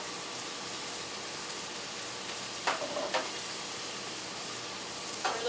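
Mushrooms sizzle on a very hot griddle in a steady broadband hiss, with a few brief scraping stir sounds near the middle and end.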